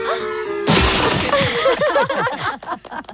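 A car's glass window shatters in a sudden loud crash, followed by a tumbling cascade of tinkling shards that fades over a couple of seconds, preceded by a brief musical tone.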